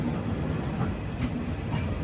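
Steady rumbling roar of the Sabarmati Express, a passenger train running between Ahmedabad and Darbhanga, heard from on board with a faint rhythmic clatter of wheels over rail joints.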